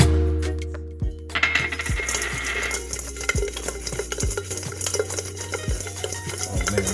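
Seasoned chicken wings being tossed in a bowl before air frying, giving close, repeated clattering and scraping knocks at a steady rhythm, with no talk.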